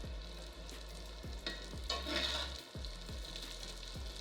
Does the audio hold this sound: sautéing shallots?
yes